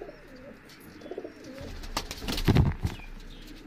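Breeding pigeons coo close by in a low, throaty burst that swells near the end, over a faint background of light rustling and a few soft chirps.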